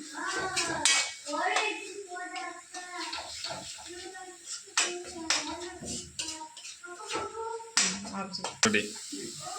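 A spoon clanks and scrapes repeatedly around a pan as chicken curry seasoning is stirred and cooked, the irregular metallic strikes close and prominent while someone talks over them.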